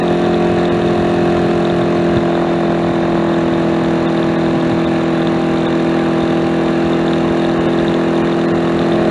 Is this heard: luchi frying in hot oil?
no